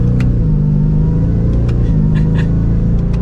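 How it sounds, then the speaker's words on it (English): A supercharged 2024 Ford F-150 Raptor R pickup engine rumbles loudly and steadily from close by as it accelerates gently, with a faint higher supercharger whine over the low drone. "You can hear that supercharger whine even under that mild acceleration"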